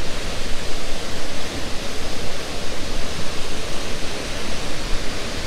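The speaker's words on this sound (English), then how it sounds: "A beautiful falls that's right near the coast of Washington and Oregon" Falls Creek Falls near the Washington and Oregon coast pours down in a dense, continuous roar, loud and close with slight surges in level and no voices.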